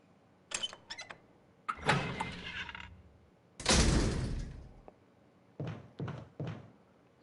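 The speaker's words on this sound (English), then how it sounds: "You could hear the door click when I did that." Sharp clicks and mechanical clunks from a door in the Resident Evil mansion, a series of brief near impacts with a longer grinding, creaking passage between them, isolated against near silence.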